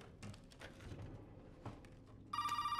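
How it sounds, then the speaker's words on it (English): A telephone in Resident Evil 7 Biohazard bursts into a loud, trilling bell ring near the end, following faint footsteps and ambient game noise. "Phone."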